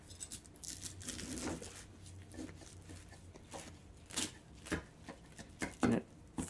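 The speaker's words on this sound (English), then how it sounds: "So I want to slice into it." A knife slices into a soft baked potato kugel, giving faint soft scraping and cutting taps spread unevenly across a few seconds, close but quiet.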